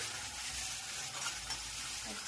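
Spices crackle and hiss in hot oil as a tempering is made for a Gujarati vegetable dish; a soft, steady, fairly faint sizzle with no talk.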